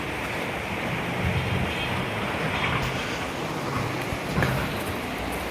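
A mountain stream in West Sikkim rushes over rocks, making a steady, broad hiss of flowing water that stays close and even throughout, with only slight surges and no voices.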